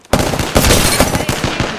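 Sustained automatic gunfire from the video game Apex Legends, a dense, loud rattle of rapid shots starting abruptly and continuing without pause, with sharper bursts punctuating the stream.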